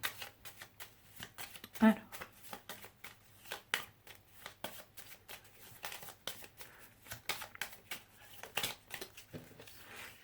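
Tarot cards shuffled in a steady run of quick riffling flicks, close and crisp, over a faint low background hum, while someone speaks briefly.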